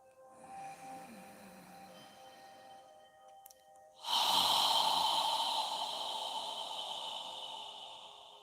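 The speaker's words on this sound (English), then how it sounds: "As you exhale, imagine you're fogging a mirror with your breath." A slow, audible exhale through the mouth during a yoga breathing exercise, like fogging a mirror: a faint breathy stretch, then a louder, close, airy breath that fades gradually over several seconds.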